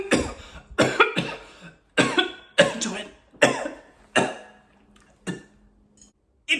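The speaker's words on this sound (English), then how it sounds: "It's not a COVID cough, I swear." A person coughing repeatedly, a run of harsh close coughs in short bursts with brief pauses between them, trailing off toward the end.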